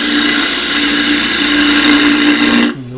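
A silky oak drawer knob being turned on a lathe with a 1/2 inch spindle gouge, a steady close whirring hum with a raspy cutting hiss, cutting off abruptly near the end.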